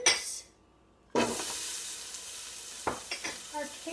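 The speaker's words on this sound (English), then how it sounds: "1 tablespoon of olive oil in our Dutch oven." Chopped onions hit hot olive oil in a Dutch oven: a sharp sizzle, a brief quiet gap, then a loud steady frying hiss with a few clinks of a utensil stirring the pan.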